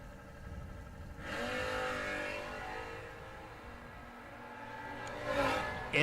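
Drag race cars, including a Mustang, launch off the line at a drag racing event, a loud roaring surge that builds and fades, followed by another rising engine burst near the end.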